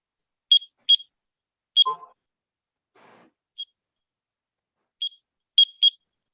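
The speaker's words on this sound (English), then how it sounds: "let me reset my timer here" A timer during a conference session gives sharp, high electronic beeps in short pairs and single chirps spread across several seconds, with brief soft rustles between them in otherwise near-silent surroundings.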